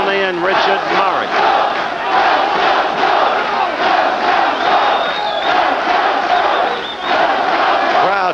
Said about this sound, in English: Crowd chanting, "Let's go, Sean. Let's go, Sean."